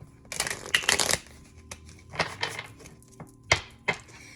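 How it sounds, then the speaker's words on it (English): A tarot card deck being shuffled by hand, with rapid riffling bursts followed by sharper, separate snaps and taps as the cards are squared and handled up close; no talking. "these are a little interesting shuffling"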